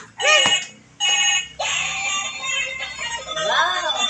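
A child's toy phone rings in a home with a bright, warbling electronic ringtone in several bursts, close and loud, while people talk around it.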